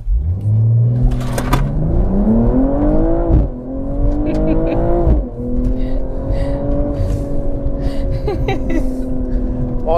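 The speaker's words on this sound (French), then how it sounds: "Il y a un launch control. On va essayer ça." A 2022 BMW M240i xDrive on winter tires pulls away under launch control in sport mode with traction control off, its engine revving hard and rising through several gear changes, loud and close inside the cabin.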